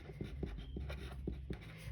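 A purple pen writes on paper while a worksheet answer is filled in during a math lesson, giving a quiet run of short scratchy strokes in a steady rhythm, close and alone without talk.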